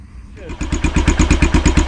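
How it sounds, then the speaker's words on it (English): A Yamaha SR500 single-cylinder motorcycle catches on a kick start and settles into an idle. A rising cough gives way to a loud, steady, evenly spaced thumping beat close by. "as you can hear, the engine fired up, third kick, and it's running quieter than it did"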